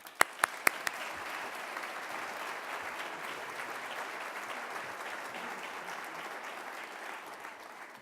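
An audience at a speaking event applauds steadily to welcome a speaker, with a few sharp claps at the start and then an even, sustained wash of clapping at moderate volume.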